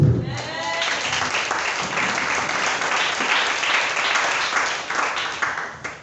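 Church congregation applauding the Lord during a service, a steady crowd of many hands clapping for several seconds, loud and continuous with faint voices mixed in.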